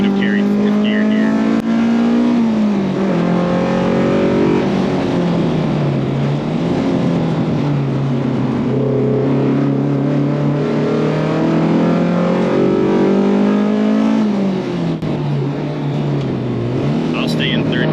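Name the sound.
BMW M3 E30 DTM race car engine accelerating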